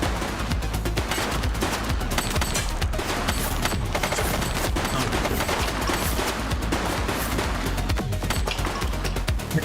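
Sustained automatic gunfire in the police game The Precinct: dense, rapid volleys of shots rattling loudly and without pause for about ten seconds, with no talking over them.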